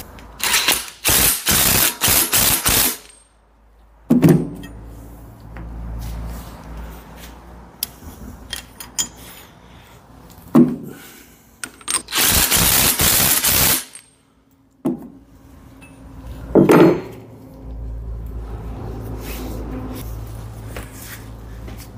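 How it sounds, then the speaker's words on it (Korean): Impact wrench tightening a coupling on the hydraulic line of a tractor-mounted hydraulic log splitter, giving several loud rattling bursts of a few seconds each, separated by quieter handling clatter and clanks. "이거는 제가 그냥 임팩을 쓸 수 있는 구조라."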